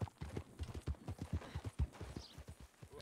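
Horse hooves clip-clopping in a western roleplay video game, a quick, steady rhythm of close, distinct hoofbeats at a trot with no one speaking.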